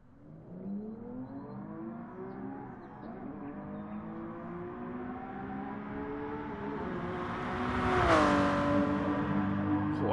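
Road car engine lapping a circuit in GT Sport, its harmonic drone rising steadily through the gears, pitch climbing then dropping sharply around eight seconds as it shifts or brakes, loud and continuous with no talk.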